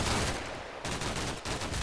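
Bursts of automatic gunfire from a BTR armored vehicle in the Combat Mission Black Sea war game, loud rapid fire across the short clip with a brief dip midway, no speech.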